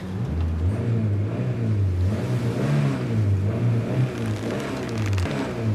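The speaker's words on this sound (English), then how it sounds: "Relented and agreed to pull Hammond's car ashore." A car engine drones steadily at moderate revs while towing another car out of water onto the shore, with a continuous strained rumble and slight wavering in pitch.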